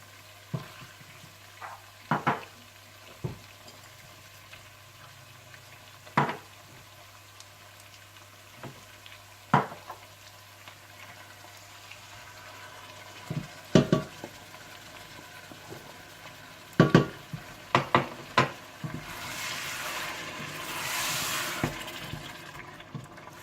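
Mutton korma cooking in a pot with ground browned onion, yogurt, korma masala, julienned ginger and salt, a faint low sizzle broken by sharp spoon scrapes and knocks, with a brief louder hiss near the end.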